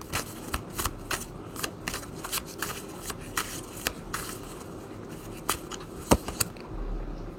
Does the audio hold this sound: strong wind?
no